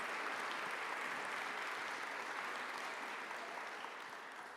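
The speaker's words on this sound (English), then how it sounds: "keep giving that big round of applause for Chloe Widner" Continuous applause from an audience at a university athletics awards event for an award winner; a soft, even wash of many hands clapping that tapers slightly at the end.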